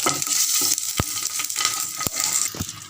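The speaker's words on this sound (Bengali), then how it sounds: "এবার আমি ওই মাছ ভাজার তেলে ফোড়নটা দিয়ে দিচ্ছি। ফোড়নটা একটু ভাজা ভাজা হোক।" Whole spices sizzle and crackle in hot leftover fish-frying oil, a steady bright hiss with a few sharp pops and stirring clicks, close and loud, with no talk.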